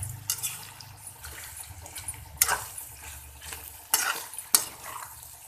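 Beef lung masala with Kashmiri red chili powder is stir-fried in a pot. A spoon scrapes and clacks against the metal in sharp, irregular knocks over a soft sizzle, close up, with no talking.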